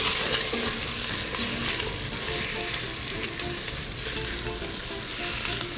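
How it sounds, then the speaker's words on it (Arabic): Chicken thighs sauté fast in olive oil in a hot pan for a freekeh dish, a steady close sizzle and crackle with stirring running continuously throughout, no talking. "هلا كمان بعمل سوتيه على السريع لفخاد الدجاج"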